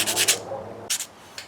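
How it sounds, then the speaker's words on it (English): 320 silicon carbide sandpaper rubs by hand on a chair screw in two short bursts of close, raspy scraping separated by a brief pause, followed by a faint tick. "I'm sanding between my fingers because it forms a groove"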